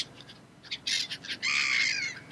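Seagulls in the survival video game Stranded Deep scream in harsh, overlapping squawks, first in short bursts and then a long, raucous cluster of calls, loud and close with no talking.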